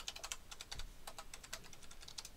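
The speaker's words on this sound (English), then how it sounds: "type in the IP address and then log in." Rapid, uneven keystrokes on a computer keyboard, likely entering an IP address into a PuTTY login on Windows; close, crisp clicks in short bursts with no voices.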